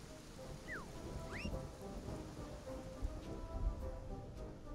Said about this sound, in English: And give him a little bit of, rain.